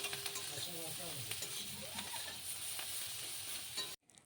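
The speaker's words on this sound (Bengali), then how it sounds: "তো চলো, একটু নাড়াচাড়া করে এবার আমরা তুলে নেব" Mashed coriander paste is turned over in a wok with a quiet, low sizzle and soft scraping strokes, then cuts off abruptly just before the end.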